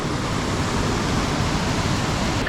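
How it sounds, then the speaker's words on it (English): Aira Force waterfall in the Lake District roars in a steady, dense rush of falling water, loud and unbroken, with no voices. "Can't go wrong with a waterfall"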